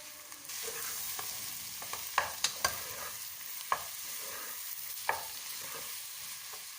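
An onion and egg curry is stirred in a hot pan. Quiet frying sizzle runs underneath, and a spoon scrapes and knocks sharply against the metal several times.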